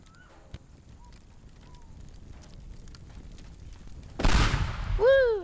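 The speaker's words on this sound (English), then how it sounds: "We want to see the explodey thing." A sudden loud explosion bursts out near the end in the destruction game Teardown, following a long quiet stretch with faint background noise, then a rising whistling tail.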